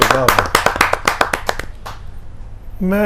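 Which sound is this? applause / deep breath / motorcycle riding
applause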